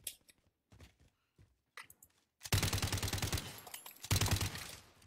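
Rapid automatic gunfire from a shooter video game bursts loud and close in two long stretches, following a few scattered sharper shots and quiet gaps.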